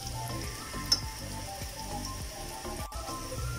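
Potato omelette egg mixture sizzles steadily in a frying pan, a soft, even crackle that runs throughout with one brief clink near the start.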